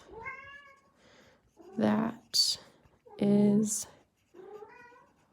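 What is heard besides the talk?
cat meowing in the background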